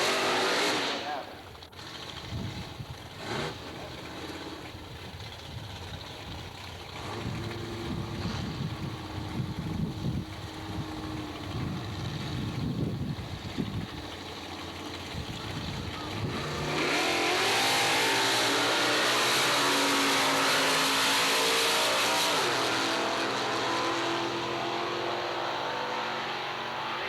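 A jet-black Corvette and another car launch down a drag strip, engines roaring loud and sustained before a broad, windy rush of sound as they pull away, with an announcer talking over the start.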